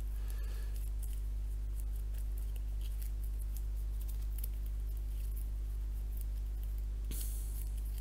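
Playing cards from a Pathfinder adventure card game being shuffled by hand, giving quiet, rapid papery riffling and flicking that runs steadily for several seconds with a brighter burst near the end.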